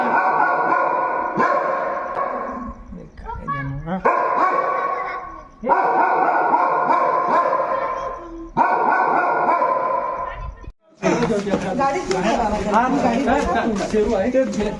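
A dog that had been shut inside for three days barks and yips while being coaxed into a car, its barks mixed in with near-constant talking from several people.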